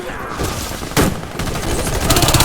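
Shotgun blasts from the medic class in the Warface shooter game, a couple of sharp loud reports over continuous game noise, with a denser burst of firing near the end.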